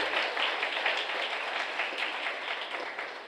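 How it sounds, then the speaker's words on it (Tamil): A congregation at a church chariot festival Mass at St. Ignatius shrine, Sathampatti, applauds with dense, sustained clapping that stays loud and even throughout, with no voices over it. "ஒருவரையும் நாம் கைத்தட்டி நம்முடைய நன்றிகளையும் வாழ்த்துக்களையும்"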